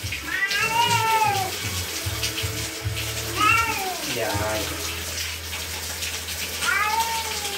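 A wet cat meows repeatedly during a bath, with several drawn-out, rising and falling cries spread across the scene over running tap water, while people talk nearby.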